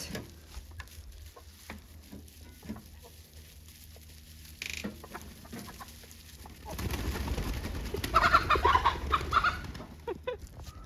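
Chickens cluck and chatter close by, getting busier and louder toward the end, with scratching and rustling in the background.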